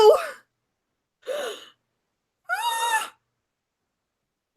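A cat in the film Alien gives three separate meowing, yowling calls spaced out over several seconds, the last one longest and strongest, each followed by silence.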